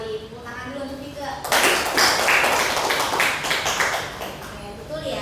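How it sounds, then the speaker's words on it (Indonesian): Classmates break into a burst of clapping in a classroom sociology lesson, a dense broadband patter of many hands starting abruptly after a teacher's short spoken prompt and continuing steadily to the end. "Tepuk tangan dulu untuk Tika."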